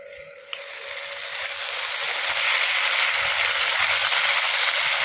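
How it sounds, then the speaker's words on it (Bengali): Onion, ginger, garlic and tomato paste frying together in a pan for a green baby jackfruit curry, a steady hissing sizzle that grows louder and fills the clip, with no voices. "এরপর এটাকে আমি ভালো করে কষিয়ে নেব"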